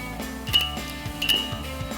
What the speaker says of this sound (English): we've got some needle nose pliers. I'm going to work it off that way